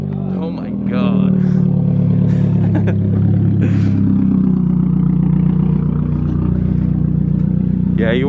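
A loud modified Dodge Challenger Hellcat Redeye engine roars to life and settles into a deep, rumbling idle, close by, with people talking over it.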